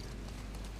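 Horse hooves clip-clopping in The Last of Us Part II video game, a quick run of light, even hoofbeats over a loud, dense background.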